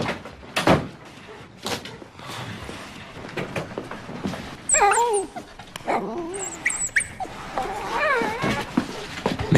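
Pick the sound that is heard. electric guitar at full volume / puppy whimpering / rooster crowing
puppy whimpering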